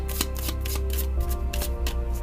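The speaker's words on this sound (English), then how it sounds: "what I like to do is close my eyes are closed, and then do a little shuffle" A deck of tarot cards being shuffled by hand, a quick series of soft riffling flicks and slaps in an uneven rhythm, close and clear with no talking.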